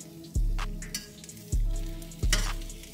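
Birria taco meat sizzles and fries in a hot pan, with a steady crackling hiss broken by three sharp, loud bursts as pieces hit or are flipped and pressed into the oil.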